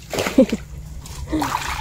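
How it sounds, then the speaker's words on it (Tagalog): Water splashes and sloshes in short bursts over a low rushing flow running downhill, with a voice briefly audible in the background. "Pababa ito, tubig ito."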